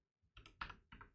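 A short burst of typing on a computer keyboard in a terminal, three or four quick, close keystrokes in about a second, faint and with no talking.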